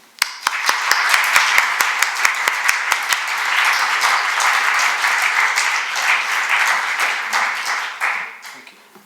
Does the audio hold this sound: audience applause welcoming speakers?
yes